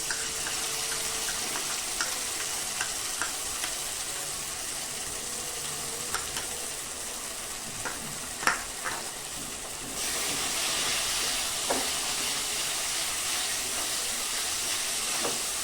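Ginger-garlic paste masala frying in a pan for an aar fish curry, a steady soft sizzle with occasional stirring clicks that grows slightly louder and hissier near the end.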